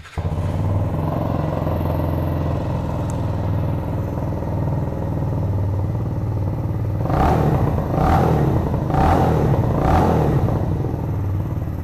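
A Mutt Mongrel 125cc retro-styled motorcycle engine idles steadily and loudly up close, then gives three or four short throttle blips with rising revs near the end.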